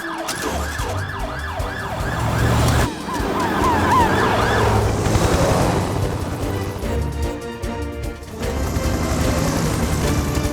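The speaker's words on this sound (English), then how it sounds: "Helen, you follow behind in the mountain rescue ambulance." A mountain rescue ambulance siren in the Fireman Sam animated cartoon wails loudly and continuously, sweeping up and down in pitch over a rumbling vehicle and busy cartoon background sound, with no talking.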